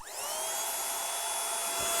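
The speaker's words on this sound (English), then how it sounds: "the vacuum, the cordless, wireless vacuum cleaner, and I put the vinyl vac attachment onto that" A cordless wireless vacuum cleaner fitted with a vinyl record cleaning attachment runs steadily, a high whining motor hiss with a bright tonal whine, close and continuous throughout.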